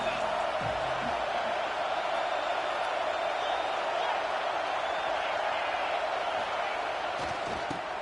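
Stadium crowd in an NCAA college football video game at an Auburn home game on third down, a steady, dense roar that carries on throughout with faint higher cheers.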